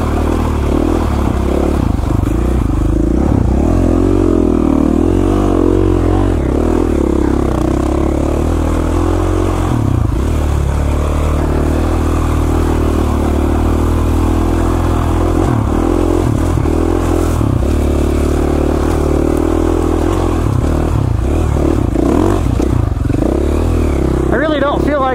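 A KTM 450 four-stroke dirt bike rides tight, slick, rocky and steep mountain single track, its engine droning steadily up close throughout with changing revs and clattering over rocks.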